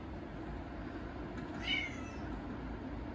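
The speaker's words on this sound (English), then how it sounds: "Little meow." A single short cat meow, faint and brief, rises midway against quiet room background noise with no talking.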